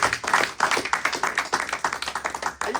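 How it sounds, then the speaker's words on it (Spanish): Church congregation applauding together, a dense run of sharp claps with brief dips in rhythm, steady and fairly close, with no talk over it. "Den un aplauso a Cristo."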